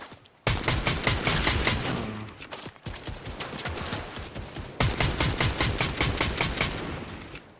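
Rapid automatic gunfire from a hard-recoiling gun in a shooter game, loud close bursts of repeated shots with a brief pause midway before the firing resumes in another long burst.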